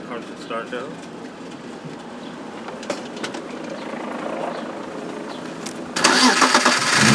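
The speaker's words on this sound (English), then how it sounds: "Car should start now." A BMW E36 M3 engine cranks and fires up, with grinding starter noise leading into a sudden loud catch near the end, heard close. Voices can be faintly heard under it.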